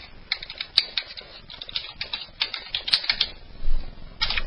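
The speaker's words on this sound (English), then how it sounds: "So type your name in." A name being typed on a computer keyboard, a quick irregular run of close, crisp key clicks for about three seconds, ending with a couple of final taps.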